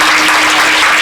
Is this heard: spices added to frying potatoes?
no